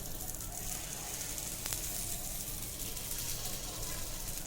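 Idli batter poured into an oiled mold gives a steady, even hiss of sizzling, moderately quiet and continuous with no talk.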